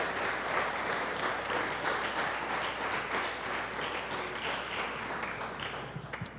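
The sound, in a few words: congregation applause in church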